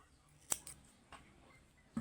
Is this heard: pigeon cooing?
no